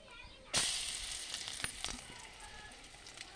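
A sudden loud sizzle bursts in as garlic paste hits hot tempering oil, then settles into steady crackling frying with a few sharp pops.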